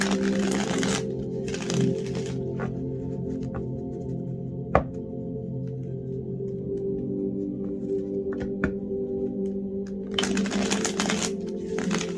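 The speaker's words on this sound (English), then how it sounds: "just take a few moments while I'm shuffling." Reading cards shuffled by hand over quiet background music, giving soft riffling bursts at the start and near the end with occasional light taps in between.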